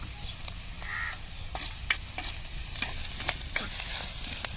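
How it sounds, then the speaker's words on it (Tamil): Onion, crushed garlic and curry leaves sauté in a pan for bitter gourd curry, giving a steady close sizzle with irregular sharp scrapes and clicks of stirring throughout, with no voices. "எல்லாத்தையும் சேர்த்து நல்லா வணக்கலாம்."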